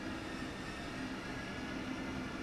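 A train in the railway game Train Sim World 2 rolls past with a steady, even rumble and hiss at moderate level, wheels droning with no pauses and no voices.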